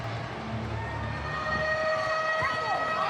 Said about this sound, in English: the siren indicates halftime here at the stadium